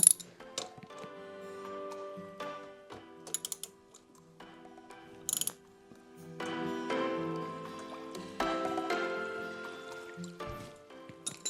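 On a GY6 four-stroke scooter, the oil drain plug is tightened back in with a ratchet, heard as bursts of quick metallic clicking and rattling. Taps and pauses come between the bursts, all close-up and at moderate volume.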